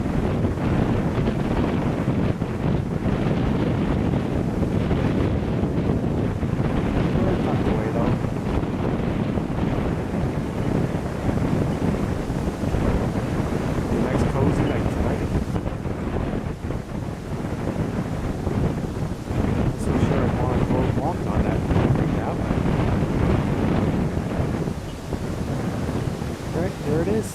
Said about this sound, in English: Winds are blowing around out on the lake.